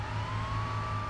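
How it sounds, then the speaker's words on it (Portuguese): A police car siren in the video game Arma 3 wails as a steady, slowly rising tone over a low engine drone, close and moderately loud. "Ela liga a sirene"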